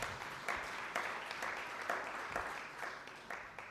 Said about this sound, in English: A better round of applause for PS Dr. Korir and the panel.